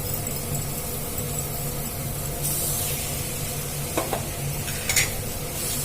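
Mashed boiled potato stirred into frying spices in a pan, a steady close sizzle with scraping stir strokes and a few sharper clinks near the end, no voices.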